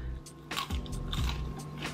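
Oil-free oven-baked fries bitten and chewed up close, with a few crisp crunches in a row over about two seconds, then quieter chewing.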